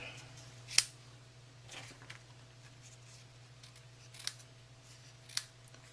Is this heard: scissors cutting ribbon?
yes